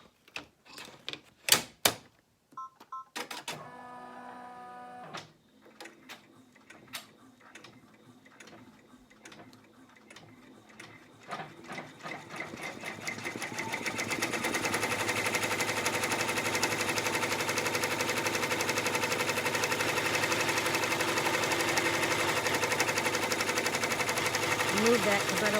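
An in-the-hoop embroidery machine stitches down a vinyl wallet. Rapid mechanical clicks and needle strikes come first, then a continuous, close, steady whirring hum of stitching that grows louder and fuller and runs on to the end.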